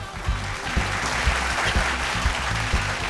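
Audience applause for a contestant at a televised singing competition, a steady dense wash of clapping with rhythmic low thumps throughout, fairly loud and close.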